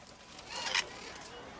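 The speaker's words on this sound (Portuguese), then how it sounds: "Outra ave da terra, o perico de la Espanhola, gosta de viver em dupla." Hispaniolan parakeets, a pair-living native bird of the Dominican Republic kept in captivity, give a brief, faint screechy call that rises above a soft, hissy background.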